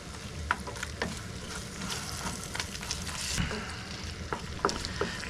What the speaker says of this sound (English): I'm just throwing a few of my shrimp in the mix with some bacon, eggs, beans, and some fried shrimp.